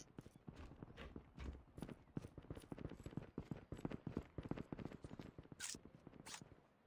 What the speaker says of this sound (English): I heard the footsteps